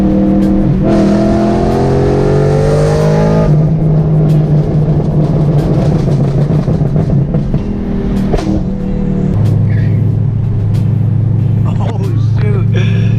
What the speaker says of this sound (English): And my car sounds so good in these canyons.